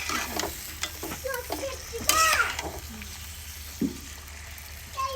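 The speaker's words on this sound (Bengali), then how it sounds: "এই তো মাংসটা ভালোভাবে ভাজতেছি তেলের মধ্যে" Desi chicken meat fries in oil with a steady low sizzle and occasional stirring scrapes, a sharp clatter near the middle and faint voices in the background.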